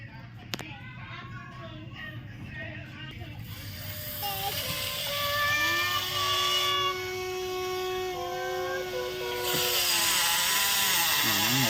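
A Volvo E010 mini excavator with worn, noisy gears needing a new gear set, digging soil; its whining, grinding mechanical tones rise and shift as the machine works, with people talking nearby.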